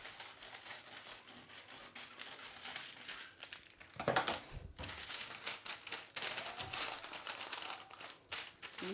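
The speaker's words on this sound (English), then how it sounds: "We cut the paper." Paper is cut for wrapping sandwiches in a kitchen, a close series of crisp crinkling snips and rustles, irregular and fairly quiet, with a heavier crunch midway and no speech.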